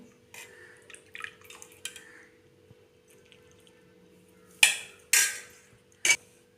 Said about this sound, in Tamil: பாசிப்பயிறு குழம்பு ஊற்றிக்கலாம்.